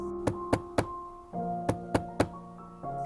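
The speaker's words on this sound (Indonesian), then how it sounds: "Ketukan pintu masih terngiang-ngiang di telinga Bram" Knocking on a door in a horror story: sharp wooden raps come in two quick sets of three, clear and close, over a sustained tonal music backdrop with no speech.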